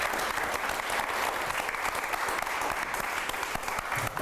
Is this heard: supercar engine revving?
no